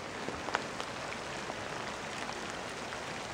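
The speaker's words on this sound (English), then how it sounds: "They're like little, I don't know, little pellet-sized hail balls. Just coming down, it's dumping." Small pellet-sized hail falls on the ground beside a mountain lake on a wilderness trail, a dense steady patter with a few sharper ticks of bouncing pellets.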